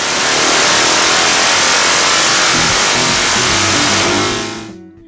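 A motorcycle fitted with S&S drag-style exhaust pipes roars loudly on a dyno, holding a sustained high rev before the engine note drops off at the end, with no talk.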